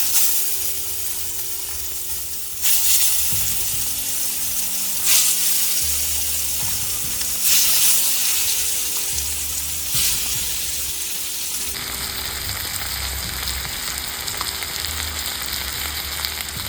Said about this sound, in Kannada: ಸೊ ತೆಂಗಿನಕಾಯಿ ಎಣ್ಣೆಲಿ ನೀವು ಫಿಶ್ನ ಚೆನ್ನಾಗಿ ಫ್ರೈ ಮಾಡಿದ್ರೆ ಒಳ್ಳೆ ಟೇಸ್ಟ್ ಬರುತ್ತೆ